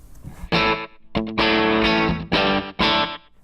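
Electric guitar played through an Empress Echosystem delay pedal set to fast, dense repeats that smear toward a reverb-like wash, with loud sustained distorted chords in several bursts separated by brief gaps.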